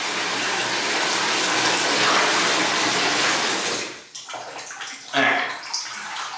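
Water runs steadily into a bathtub as it fills, a loud continuous gush that cuts off partway through, followed by brief speech and small splashes.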